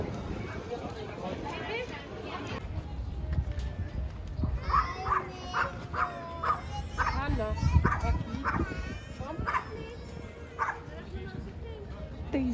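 A dog barks repeatedly at crowds of tourists in a busy French village, sharp yips and bow-wows recurring through the clip amid a lively outdoor crowd and nearby talk.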